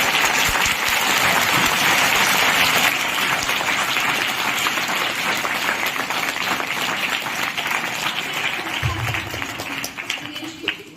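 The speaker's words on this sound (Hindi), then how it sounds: "हम सब उनका जोरदार तालियों से स्वागत करते हैं।" Loud, sustained applause welcoming a guest speaker at a school youth event, a thick continuous patter of many hands from a large audience, tapering slightly toward the end.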